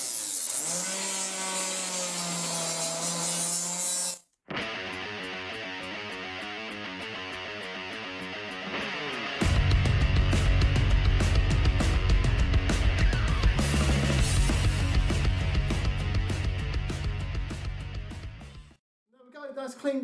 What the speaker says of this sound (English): flat wheels do fit in this collar on the die grinder, and it works really well